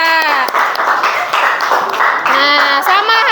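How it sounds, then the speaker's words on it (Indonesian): Applause from an elementary school class for a student, continuous clapping mixed with children's voices calling out over it. "beri tepuk tangan untuk Kiera."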